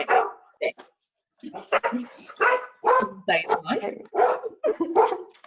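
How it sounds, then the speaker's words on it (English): A dog barks in the background of a webinar call, repeated yips and barks in uneven bursts mixed with a person talking throughout. "Somebody's dog is in the background."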